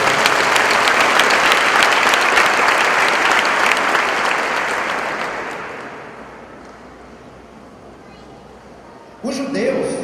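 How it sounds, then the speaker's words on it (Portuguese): A church congregation at a Sunday service applauds in a loud, dense wash that fades out over several seconds, then quiet room tone before a voice resumes near the end. "Dê um aplauso ao Senhor Jesus."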